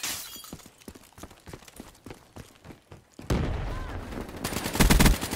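Call of Duty Black Ops 3 team deathmatch gunfire: rapid bursts of shots crackle in a steady rhythm, then a louder burst of heavy firing and impacts swells near the end.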